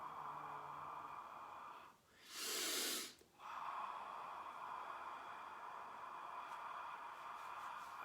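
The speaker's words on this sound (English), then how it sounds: "Fog breathing, like you're fogging a glass." One slow, open-mouthed breath out, like fogging a glass, rises as a soft breathy hiss of about a second, then fades into steady low background hum.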